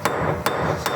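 A hammer striking a 27 mm socket to seat the water pump seal on a BMW K75 motorcycle engine: three sharp, evenly spaced metallic knocks, close and loud, with no voices.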